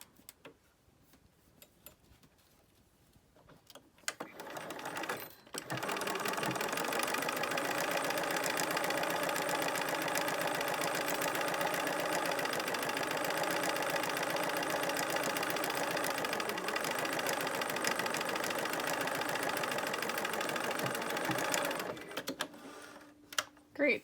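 A sewing machine runs steadily for about eighteen seconds, stitching two seams with a dense, even mechanical whir, loud and close, bracketed by brief quiet handling at the start and end.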